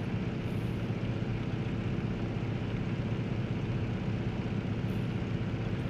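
A simulated F6F Hellcat piston propeller engine drones steadily at stable power in Microsoft Flight Simulator, a loud continuous broadband roar that holds level for several seconds with no talking.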